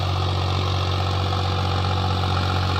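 A loud, steady low-pitched diesel rumble of an unmodified New Holland 3630 4x4 turbo tractor engine idling close by, constant and unbroken throughout.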